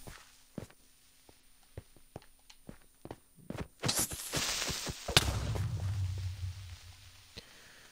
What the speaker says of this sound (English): First witness of a creeper explosion.